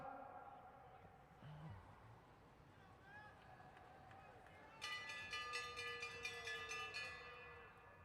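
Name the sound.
bell rung for the bell lap in a cycling race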